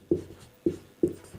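A pen or chalk writing a heading in a Class 12 geography lesson, three distinct tapping strokes with short scratchy tails, evenly spaced and close.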